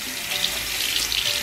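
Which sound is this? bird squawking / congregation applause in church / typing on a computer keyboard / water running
water running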